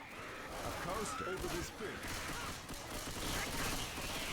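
Rapid video game gunfire in a Left 4 Dead style multiplayer match, steady and dense throughout with sharp bursts layered over continuous background game noise.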